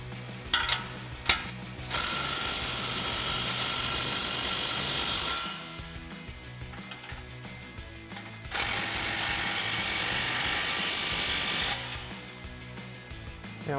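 A ratchet and socket tighten exhaust clamps on a Ford F-150 EcoBoost exhaust system, with a few quick clicks, then two long, steady bursts of rapid ratcheting separated by quieter pauses, close and clear.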